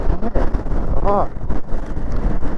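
Heavy wind buffets the microphone in loud, gusty roars while riding a Daymak Pithogs Max ebike through rain and mud, with brief vocal sounds mixed in.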